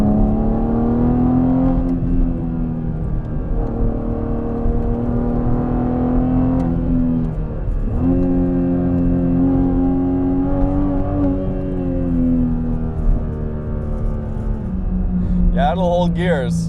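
A big-turbo Toyota Supra running on E85 with an automatic transmission accelerates from inside the cabin, a loud droning engine note rising through gears with a shift dip, while someone talks over it.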